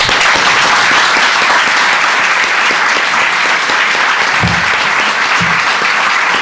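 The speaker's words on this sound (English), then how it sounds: "Keep clapping." A large lecture audience in Oslo claps after a talk by Noam Chomsky, loud, dense and continuous applause filling the room, with a couple of brief low thumps near the end.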